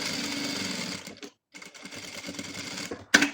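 Sewing machine stitching a chair cover, close rapid stitching that stops briefly, resumes, then ends with a sharp click.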